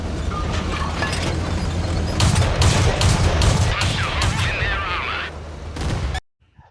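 Tank cannon fire and machine-gun bursts in the console version of World of Tanks ring out in a dense, continuous barrage of loud booms and rattling shots, ending abruptly in silence.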